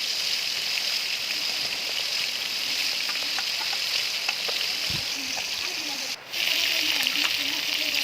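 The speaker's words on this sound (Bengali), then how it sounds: "দেখো, মাছগুলো আমার ভাজা হয়ে এসেছে।" Continuous crackling hiss of shankar fish (stingray) frying in oil in a kadai, fairly even, with a few faint clinks and a brief dip near the end.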